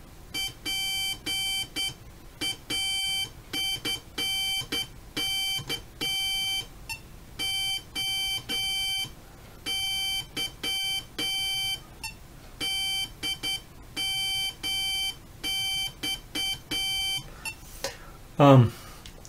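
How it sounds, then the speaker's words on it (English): A Morse code trainer sounds clear, steady electronic tone beeps in quick repeated groups with brief gaps between them, close and moderately loud, with no speech over them. "notice it's beeping every time I enter a word"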